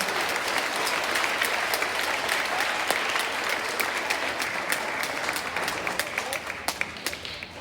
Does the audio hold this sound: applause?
yes